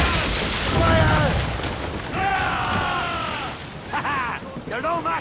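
Ship cannons boom in a naval battle in Assassin's Creed Rogue, heavy blasts and crackling bursts mixed with whistling and creaking, under shouted crew voices and loud battle noise.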